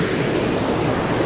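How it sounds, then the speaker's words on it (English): The River Melendez near Cali rushes in a steady, dense wash of flowing water, loud and close with no pauses and no voices. "it's the River Melendez, which is one of the 7 rivers in the Cali area"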